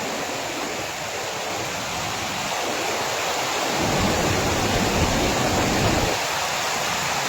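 Water rushes loudly and continuously as Ramdhari lake overflows, a dense steady roar that swells slightly partway through and carries on unbroken.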